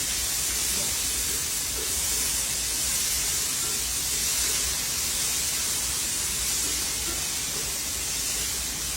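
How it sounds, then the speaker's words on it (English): Cherry tomatoes sizzle in olive oil with chili flakes, a dense, even hiss that runs loud and unbroken from start to finish. "And now we will add cherry tomatoes."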